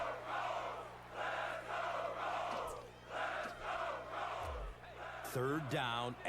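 Crowd noise in Madden 12 football with the Colts in the game, a stadium roar that swells and fades in repeated waves, with some other game sounds near the end.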